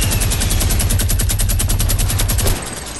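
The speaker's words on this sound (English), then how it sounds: "this dude just got lasered by a minigun" Rapid, sustained minigun fire from the Fortnite video game, a dense loud burst of closely spaced shots rattling for about two and a half seconds before cutting off.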